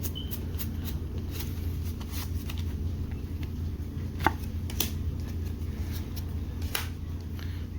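Pokémon trading cards from Vivid Voltage booster packs flicked through quickly by hand, a run of crisp, rapid card snaps and slides, close and fairly quiet.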